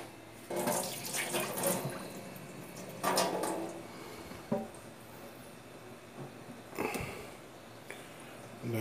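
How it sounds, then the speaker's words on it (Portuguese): Water poured off meat in a cooking pot while making Bahian feijoada, a splashing, running stream in a few short bursts with pauses between, moderately close and fairly quiet. "Vou só escorrer essa água."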